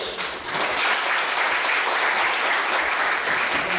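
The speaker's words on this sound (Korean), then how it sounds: "박수로 환영하겠습니다." Steady applause from a church congregation at a Sunday service, welcoming young visitors from Sydney; the clapping swells in quickly and holds dense and even for a few seconds, with a faint voice briefly underneath.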